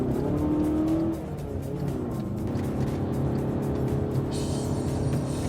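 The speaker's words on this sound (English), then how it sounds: "test is to do an acceleration and braking test for the vehicle" A car towing a caravan accelerates and then brakes hard during a towcar acceleration and braking test, with a steady engine drone that eases in pitch and a faint hiss near the end, and no voices.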